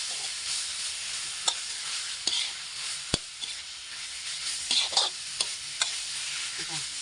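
Pork belly sizzles steadily in hot oil for a curry-paste stir-fry, with a broad hiss and sharp scraping clicks as it is stirred in the pan at irregular intervals.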